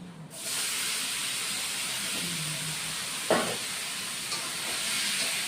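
Jackfruit pieces coated with salt, turmeric, garlic and onion, with two bay leaves, sizzle steadily in a hot pan, a constant hiss with a brief stir clatter midway.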